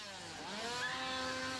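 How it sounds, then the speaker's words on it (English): Chainsaw revving at a Universal Studios Orlando Halloween haunt, a loud whining engine climbing in pitch and holding high, close with no speech. "The easiest scare, and probably the most effective scare even today, is the chainsaw."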